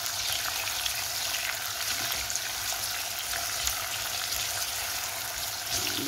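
Chopped onion sautéing in a pan for a chicken dish, giving a steady, even sizzle and hiss that holds at the same level throughout, close by, with no talking.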